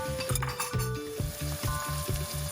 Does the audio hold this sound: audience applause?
no